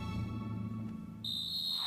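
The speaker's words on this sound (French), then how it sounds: "L'arbitre siffle le coup d'envoi." A referee's whistle blows for kickoff in an Inazuma Eleven Go football anime match, a sharp, loud, sustained high tone that starts partway through and cuts over a low droning background.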